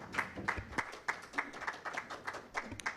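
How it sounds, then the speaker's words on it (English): Fairly sparse applause at a national conference, individual claps standing out in a loose, steady rhythm. "A round of applause to Arthur"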